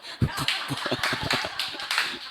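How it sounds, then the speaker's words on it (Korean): Congregation at a revival-style church service clapping their hands together, a dense run of rapid overlapping claps with voices mixed underneath. "손뼉치면 아멘"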